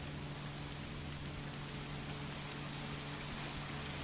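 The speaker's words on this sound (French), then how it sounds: "Il pleut encore par contre" Steady rain falls in the horror video game The Knocker at night, a dense, even hiss of drops on surfaces that holds constant throughout with no voices.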